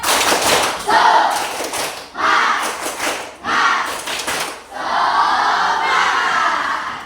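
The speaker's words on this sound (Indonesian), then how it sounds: "Tepuk semangat." A group claps and shouts together in several loud, rhythmic bursts with short pauses between them, ending in a longer sustained cheer.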